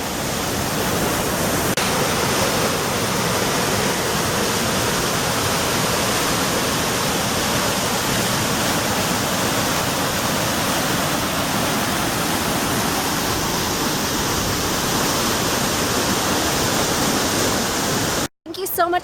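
A waterfall roars in a steady, dense rush that fills the whole scene, close and loud, cutting off abruptly near the end.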